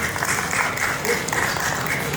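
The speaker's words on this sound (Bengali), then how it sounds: "সবাই হাততালি দিন।" An audience applauds with a brief, dense burst of clapping at moderate loudness.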